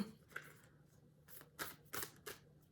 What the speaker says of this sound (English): These are really hard to shuffle because they're really big cards